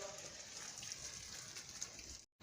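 Water splashes steadily across a courtyard floor during washing, a soft continuous wash of sound that is faint and unbroken until a brief cut near the end.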